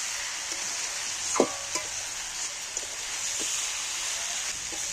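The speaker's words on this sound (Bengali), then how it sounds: "এইবার আমি ভালো করে কষিয়ে নিব" Jackfruit curry with spices sizzles in a pan while being sautéed, a steady close frying hiss with a few sharp scrapes and clinks of stirring.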